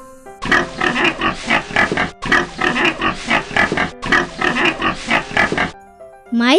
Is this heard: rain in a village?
no